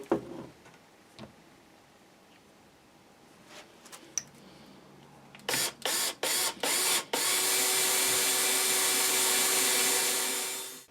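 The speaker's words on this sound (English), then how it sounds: "So we're just going to drill those holes now just to line everything up." A few short bursts of a power drill whirring into wood on a custom Telecaster guitar build, then one long continuous drilling run that winds down at the end, with light knocks before.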